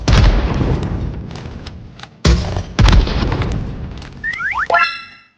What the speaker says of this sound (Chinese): 接着是爆炸伤害测试，现在榴弹让普通7套尝尝味儿